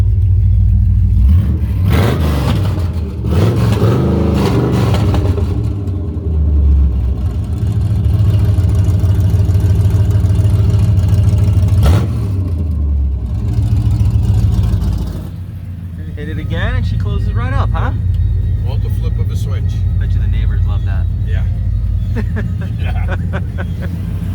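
A 1966 Chevrolet Caprice resto-mod with a 383 stroker V8 and five-speed revs loudly up close, its deep engine roar rising and falling through repeated throttle blips over a sustained rumble.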